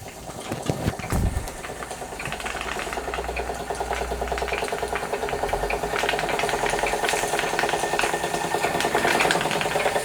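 A Wilesco D455 model steam engine runs close up, a quiet, smooth, fast rhythmic mechanical chuffing and whirring that holds steady throughout after a brief clatter at the start.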